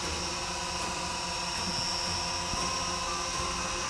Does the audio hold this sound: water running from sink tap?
no